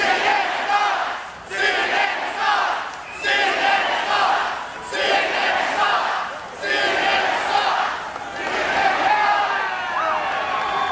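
At a political rally in Albuquerque, New Mexico, a huge crowd roars and cheers in loud, rhythmic surges every couple of seconds, like a chant. The sound is close and fills the space, with no single speaker heard above it.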